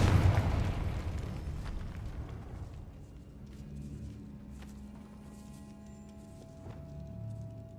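Confringo spell explosion in Hogwarts Legacy: a single deep blast at the start that rolls off into a fading rumble, followed by faint crackles and quiet ambient tones.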